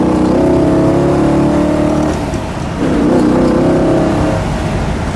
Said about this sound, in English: Nobody makes a sound like this but a 409.